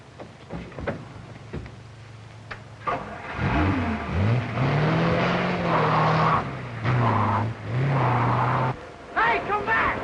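A car engine starts and revs up, then drones steadily as the vehicle pulls away to overtake, pitch rising and falling with gear changes, loud and close, while voices shout over it.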